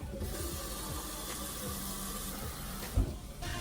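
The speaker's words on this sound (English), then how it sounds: "I'm just gonna fill it halfway with water." Tap water runs steadily into a pot, a continuous close rushing splash with a brief clunk near the end.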